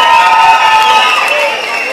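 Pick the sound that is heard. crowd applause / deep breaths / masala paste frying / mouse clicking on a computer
crowd applause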